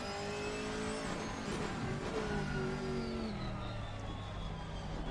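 Camaro GT4 race car in Assetto Corsa Competizione at COTA, a steady onboard engine drone with rising and falling revs under acceleration and shifts, continuous and fairly loud.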